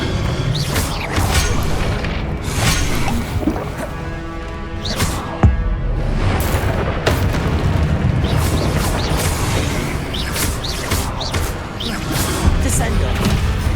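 Spell impacts from the Hogwarts Legacy video game, a series of booming, crashing hits with thuds scattered over steady game ambience and music, punctuated by sharp transient bursts throughout.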